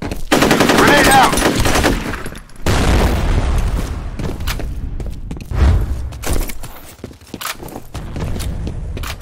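Gunfire and a heavy explosion from a grenade in the multiplayer shooter FEAR Combat: loud, dense bursts of automatic fire with booming blasts, then scattered shots and thuds continuing through the clip.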